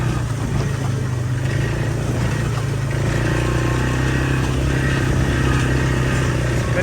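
A Can-Am Outlander four-wheeler ATV engine runs steadily and loudly up close, a continuous droning rev with no breaks or voices.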